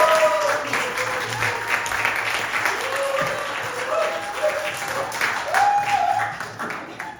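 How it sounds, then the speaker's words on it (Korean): Applause from a church teachers' seminar audience welcoming a guest evangelist lecturer, a steady wash of many hands clapping in a room with a little chatter, fairly loud throughout. "우리 박수로"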